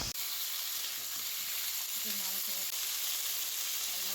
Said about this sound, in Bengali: আলুটা নাড়াচাড়া করে লাল লাল করে ভেজে নিচ্ছি।